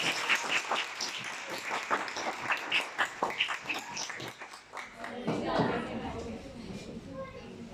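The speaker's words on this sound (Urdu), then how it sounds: "آج کانوں والے اور دلوں والے سنیں گے آپ کی بھرپور تالیوں میں سید ثقلین عباس" An audience at a poetry gathering and book launch applauds a poet's introduction with a dense run of clapping, and a voice joins and takes over toward the end.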